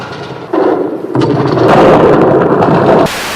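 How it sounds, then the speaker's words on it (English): Military weapons firing and an explosion in a 1950s science-fiction film, a loud, rumbling blast building into a sustained roar before cutting off abruptly, with some sharper cracks inside it. "Colonel Edwards gave the signal to fire"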